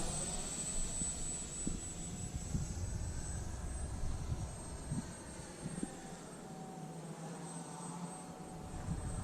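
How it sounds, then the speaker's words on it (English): A Value Hobby Dolphin EDF jet trainer model plane glides past outdoors, its electric ducted fan giving a steady, fairly loud whine over wind rumble throughout, with no talking. "Well, she flies slow for a jet."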